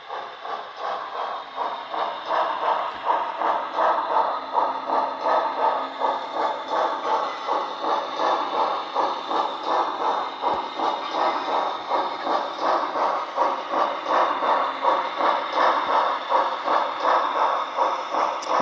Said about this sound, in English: so it takes a while for the train to come through